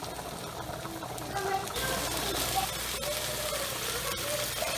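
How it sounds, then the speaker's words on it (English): Soft, steady sizzling of steak frying in a pan, a quiet continuous crackle that swells slightly partway through. "Steak is in the pan."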